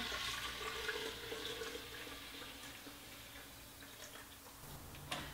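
Homemade almond milk pours from a blender jug with a spout into a container, giving a steady, close liquid splashing and trickling sound for several seconds, with a small clink near the end.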